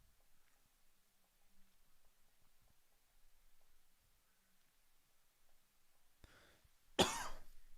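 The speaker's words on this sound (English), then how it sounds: "It's this dry weather making me want to cough." A single dry cough bursts out near the end after a long stretch of quiet room tone, preceded by a brief throat-clearing rasp, close to the microphone; blamed on dry weather.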